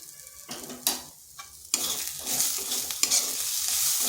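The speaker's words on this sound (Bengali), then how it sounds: "ভালো করে ডালের সাথে মিশিয়ে নিচ্ছি" Salt, turmeric, ground coriander and ground cumin are stirred into a masoor lentil mixture in a pan over low heat. A spoon scrapes in repeated strokes over a soft, steady sizzle that grows fuller toward the end.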